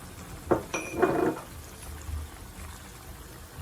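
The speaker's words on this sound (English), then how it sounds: "now I'm going to be adding the ginger and the garlic, the maggi and onions to it" Ginger, garlic, Maggi and onions tipped into a cooking pot with a few clinks of utensil on metal and a brief soft pour, fairly quiet and close.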